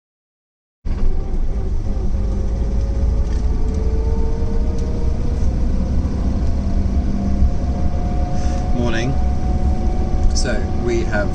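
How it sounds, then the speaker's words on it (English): A cold 1970 Lancia Flavia engine idles with a steady mechanical clatter, running loud and close throughout, with a faint rising whine in the background. "The engine's really cold and that's when the clatter's worse."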